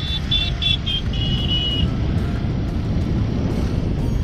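A vehicle overtakes on a busy road in Malda, a loud continuous engine and road rumble close by, with a few short horn-like tones early on, then a single longer tone.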